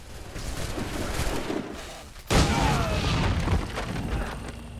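A single loud, sharp gunshot in Assassin's Creed 3 cracks out midway through, following a stretch of noisy game ambience, and a dense rumbling tail trails after it.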